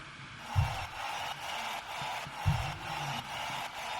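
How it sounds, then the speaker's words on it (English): Crowd noise sample layered into a progressive house track, a steady broadband wash of distant cheering with two low thumps near the start and midway, continuous and without distinct voices. "And then I've got some crowd noise."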